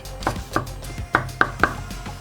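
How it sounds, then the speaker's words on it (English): A knife chops vegetables for chicken fried rice on a cutting board, about six sharp, evenly spaced thuds over two seconds, close and clear with no talk. "Now all our vegetables are chopped."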